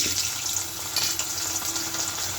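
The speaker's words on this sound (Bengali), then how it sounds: "হলুদ লবণ দিয়ে আলুটা ভেজে নেব।" Potatoes frying in a pan with turmeric and salt give a steady, close, moderately loud sizzle and crackle that runs unbroken throughout, with no talking.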